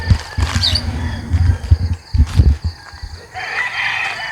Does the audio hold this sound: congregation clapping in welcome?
no